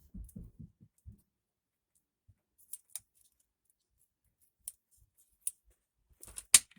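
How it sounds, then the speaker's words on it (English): Scissors snip off a small piece with a few soft, close clicks and snips spaced apart in a quiet room, ending in a sharper, louder cut. "We'll cut this little part off."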